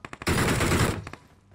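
Rapid automatic gunfire from a Honey Badger rifle with a 4x scope in PUBG Mobile, a sharp near burst of fast shots after a few single pops, then tapering off.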